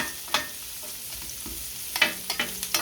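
Onions sautéing in a cast-iron skillet give a low, steady sizzle, punctuated by several sharp spatula scrapes and taps against the pan near the end.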